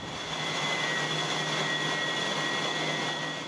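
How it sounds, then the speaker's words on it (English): In the engine room of the cruise ship MS Zuiderdam, AC compressors produce a loud, steady machinery roar with a constant whine, with no pauses or talking. "Here the AC compressors, there are 4"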